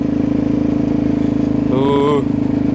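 A motorcycle rolls slowly along a road near Jankov Vršok, its engine a loud, steady low drone throughout, with a brief voice rising over it partway through.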